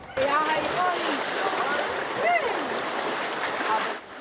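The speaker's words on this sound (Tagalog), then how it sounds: "Malakas din ang agos ng tubig" Floodwater rushes and churns steadily, loud and close, while voices call out over the torrent now and then, in Cagayan de Oro City.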